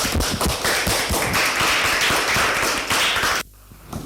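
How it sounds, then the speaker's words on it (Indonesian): A class of students clapping hands together in a classroom, a dense fast burst of overlapping claps at close range that cuts off abruptly near the end, leaving quiet. "sekali lagi saya mau tepuk tangan dulu biar semangat"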